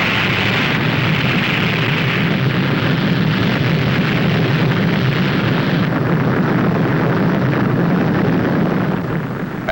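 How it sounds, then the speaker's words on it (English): A 1960 NASA rocket lifts off carrying a balloon satellite, a loud, continuous broadband roar that rumbles steadily for the whole stretch, with no talk over it. "As the missile hurtles through space"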